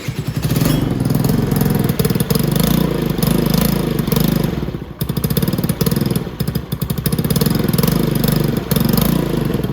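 A motorcycle with a custom exhaust and a carburetor is running close by, loud and steady, with a rapid, even chug through a muffler that has a small gap. There is one brief dip in the middle, and no one talks.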